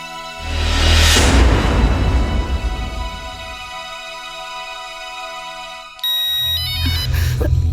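Music fades out, then an electronic phone ringtone chirps loudly in quick stepped tones over the last couple of seconds.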